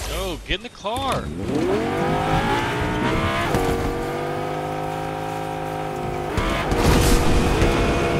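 Car driven in Fortnite, a loud revving engine with rising and falling pitch sweeps and tire squeal, staying close and strong throughout as a voice talks over it.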